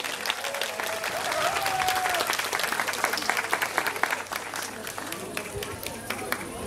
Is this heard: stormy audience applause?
yes